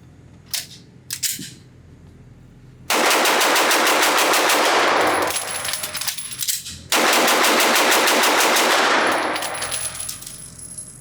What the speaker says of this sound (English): I just want to see how fast I can shoot this, change the magazine out, and get it back in action.